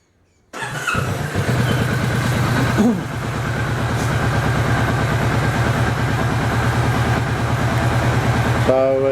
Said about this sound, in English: this is the stock exhaust on the Kawasaki Vulcan S. And I'll just start the bike up